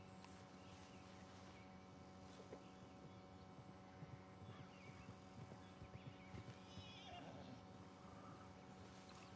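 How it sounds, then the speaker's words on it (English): Horse sounds in a western-themed video game, soft repeated hoof clip-clops over a busy, steady game ambience with faint distant snorts, low in level and without speech. "Alright, come on, horse."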